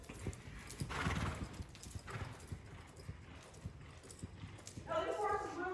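Horse hooves clip-clop at a steady walking pace during a riding lesson, with a rider's voice talking over them and a short whinny near the end.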